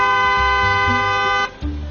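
A single long, loud car horn blast sounds up close, holding steady before cutting off, followed by a lower engine hum.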